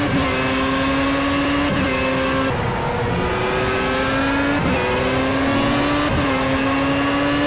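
Formula A open-wheel race car in the Project CARS video game at Hockenheim, its engine screaming loud and steady with rising gear-by-gear pitch sweeps as it accelerates hard out of a turn, alone without talk.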